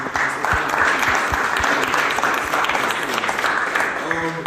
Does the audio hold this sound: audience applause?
yes